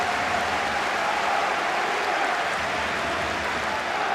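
A football stadium crowd at a 1996 Romania versus Spain match roars steadily and loudly throughout, a dense continuous wash of cheering with no clear individual voices.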